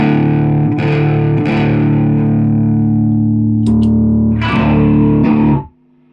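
Electric guitar played through a homemade clone of the EQD Hizumitas fuzz pedal: loud, thick, sustained distorted chords ringing with heavy fuzz, a few brief re-picks and changes, then cutting off abruptly near the end.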